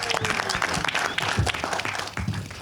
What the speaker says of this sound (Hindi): जोरदार तालियां, कम ऑन.